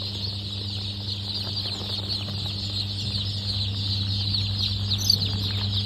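Aseel commercial chickens cluck steadily in a busy coop, with a constant electrical hum underneath and a brief squawk near the end.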